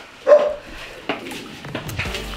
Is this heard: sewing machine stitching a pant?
no